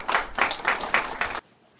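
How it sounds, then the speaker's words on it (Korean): Brief applause at a meeting of a provincial wildfire emergency committee with environmental groups and lawmakers in Gyeongbuk, a few loud bursts of clapping in quick rhythm that stop abruptly, followed by near silence. "박수 한번 보여주십시오."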